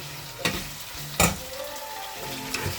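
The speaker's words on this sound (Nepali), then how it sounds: "अहिले यहाँ मासु पकाइरहेको छ।" Pork sizzles in a hot pan with a constant hissing fry, broken by a few sharp pops and stirring clatters; no one speaks.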